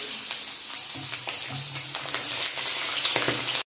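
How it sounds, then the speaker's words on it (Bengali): Rohu fish heads rubbed with turmeric and salt sizzle in hot oil in a home kitchen pan, a loud continuous crackle with occasional stirring scrapes, ending abruptly. "মাছের মাথাগুলো ভেজে নেবো"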